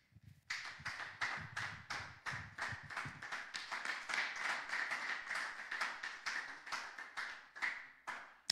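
A church congregation claps loudly and steadily in a fast, even rhythm to acclaim Jesus during a worship service. The sound is a dense, continuous volley of handclaps with no voices over it.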